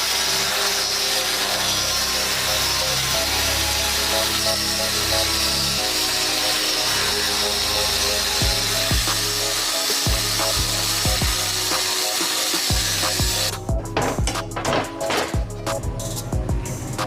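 A power tool cuts through metal plate for a Toyota bumper, a loud sustained grinding whine that runs steadily, then gives way to a series of irregular scraping and rattling strokes.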